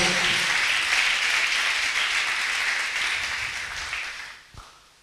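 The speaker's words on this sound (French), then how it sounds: "Si vous êtes là, acclamez le Seigneur." A church congregation claps and acclaims loudly in a steady, dense wash of applause that fades out near the end.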